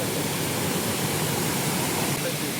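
A hidden forest waterfall gives off a steady, broad rushing roar of falling water, constant and fairly loud throughout with no breaks.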